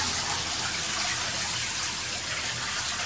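Water swishes and gushes continuously as wheat grains are washed in it, a close, steady wet rushing sound with no talking.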